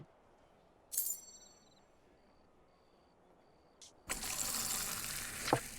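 A pint of beer is poured in Fable 2: a bright clink and a faint tone come first, then a steady, close, fizzing rush of liquid fills the last two seconds.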